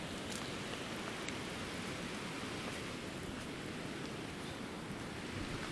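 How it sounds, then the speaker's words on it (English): Steady rain falling, a dense, even hiss of drops on surfaces that holds at a constant level throughout with no voices. "Oh, it's rain."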